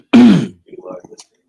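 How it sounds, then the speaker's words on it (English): A man clears his throat once with a loud, rasping vocal grunt, followed by a few faint, softer throaty rumbles. "Can't clear his throat."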